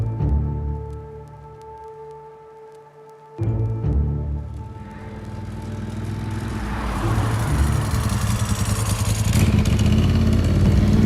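A Ducati 748R superbike engine idles with a steady low throb, cuts out briefly, then restarts and builds into louder, rising revs with a raspy, rumbling exhaust, close and unaccompanied by speech.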